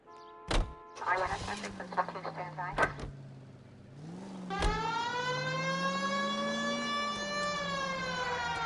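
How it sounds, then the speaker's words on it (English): A police car siren in the LA Noire video game: a few door thunks and an engine start, then a loud wailing siren that rises and falls steadily to the end, with no talk. "This is our police car."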